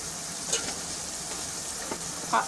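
Cumin powder sizzles in a frying pan alongside coriander powder, a steady soft hiss of frying with a few brief stirring scrapes, fairly quiet and without talk.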